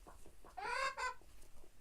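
A broody hen gives a short run of clucks, a few soft low calls followed by two louder, drawn-out vocalizations close by, with no talking.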